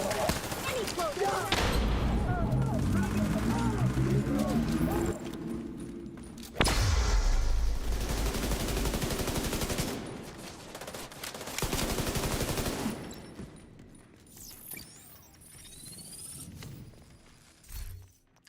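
Light machine gun firing in The Division, sustained bursts of automatic fire that run loud for several seconds, pause briefly, then resume, fading to sparse shots and game noise near the end.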